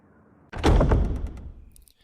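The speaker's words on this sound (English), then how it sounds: "Alright, so we're gonna go through these double doors." Heavy double doors open in Resident Evil Remastered with one abrupt, loud thudding impact. A rumbling, rattling decay follows over the next second.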